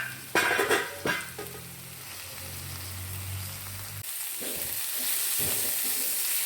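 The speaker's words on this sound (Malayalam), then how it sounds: "നമുക്കിനി ഇളക്കി നോക്കാം." Ridge gourd thoran (padavalanga thoran), Kerala style, is stirred in a pan, with spoon scrapes and knocks early on over a steady close sizzle that continues to the end.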